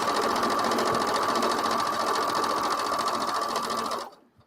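A sewing machine runs continuously at a steady, rapid stitching rhythm, set to a wider stitch while quilting, close and fairly loud, then stops abruptly near the end.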